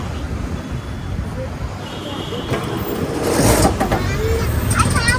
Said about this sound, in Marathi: Rickshaw ride it is guys.